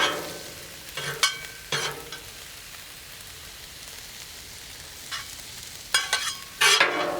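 Yakisoba noodles stir-fried on a Blackstone griddle: a soft, steady sizzle punctuated by several sharp spatula scrapes and clacks, clustering near the end.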